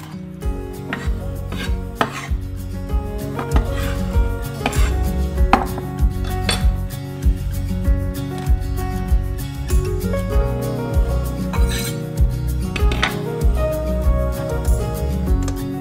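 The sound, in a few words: knife chopping onions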